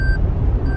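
A 2021 Toyota 4Runner SR5 sounds a high warning beep while moving at speed, refusing a shift into 4 high; two short electronic tones, one at the start and one at the end, sit over steady road rumble.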